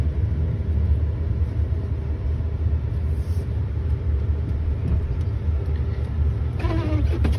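A 2006 Ford F-150 pickup with a 5.4 Triton engine plowing snow, heard as a steady, close, heavy low engine rumble that stays level throughout, with a brief rising whine near the end.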